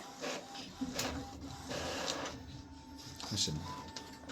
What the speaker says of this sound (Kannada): ಜೆರಾಕ್ಸ್ ಅಲ್ಲಿಂದ ಪ್ರಿಂಟ್ ಆಗಿ ಇಲ್ಲಿ ಬರುತ್ತೆ.